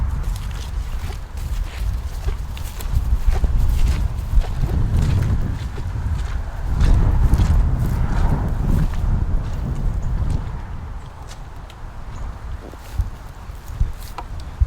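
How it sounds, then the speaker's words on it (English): Cows walk through an opened fence on leased grazing land, their hooves thudding and shuffling steadily over a low outdoor rumble, busiest in the middle stretch and thinning out toward the end. "I'll take down the fence over here and we'll let the cows through."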